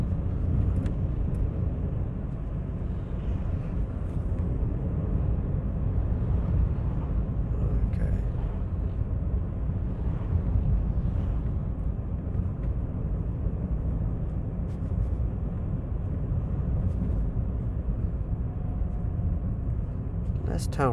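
Car accelerating steadily in third gear on a road through a driving test route, a continuous loud engine and road rumble throughout with no talk.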